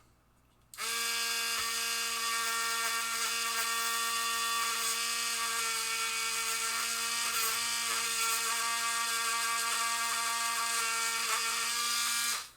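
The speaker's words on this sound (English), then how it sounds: "So now I'll take my Dremel." A Dremel rotary tool spins up and runs steadily with a high, even whine while cleaning the switch contacts on a 1970 Williams Straight Flush pinball relay board, then winds down at the end.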